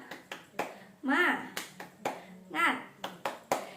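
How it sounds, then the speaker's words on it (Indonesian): A class of children performs a rhythmic spirit clap, sharp claps in a patterned beat broken by two chanted shouts from the group, fairly close and lively. "Tepuk semangat."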